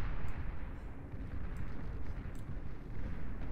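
Sheldon units in Beyond All Reason fire shoulder-mounted arm cannons during a 3v3 deathmatch, a dense, continuous low rumble of overlapping cannon blasts and explosions, loud and sustained with no clear gaps.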